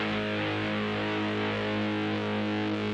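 Electric guitar through a Seven Sisters Ruby Fuzz and a Fux Fuzz pedal, thick fuzz distortion, a sustained buzzing chord ringing loud and steady without a break.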